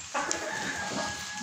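A rooster lets out a short, close clucking call inside a henhouse in the evening, a brief bird vocalization over a faint background hum.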